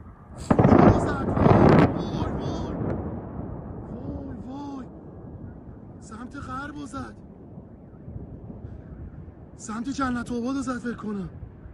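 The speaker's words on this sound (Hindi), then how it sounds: "सुनिए जरा धमाके की आवाज।" A loud, deep blast from an attack on a building in Tehran booms at the start and rumbles briefly, followed by agitated shouting voices for the rest of the clip.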